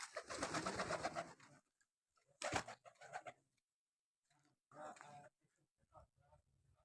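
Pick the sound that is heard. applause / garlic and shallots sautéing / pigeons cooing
pigeons cooing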